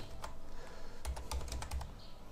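Several quick keystrokes clatter on a computer keyboard during Linux software installation, a short burst of soft, close clicks after a brief pause.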